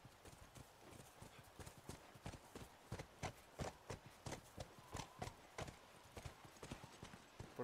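Horse hooves clip-clop at a steady walking rhythm in The Last of Us video game, a continuous series of close, distinct knocks on hard ground with no talking over them.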